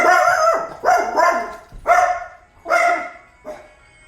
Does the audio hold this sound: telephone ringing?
no